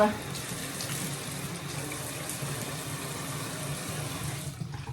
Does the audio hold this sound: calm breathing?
no